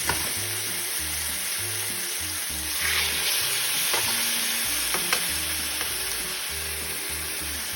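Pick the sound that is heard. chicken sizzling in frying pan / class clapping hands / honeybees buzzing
chicken sizzling in frying pan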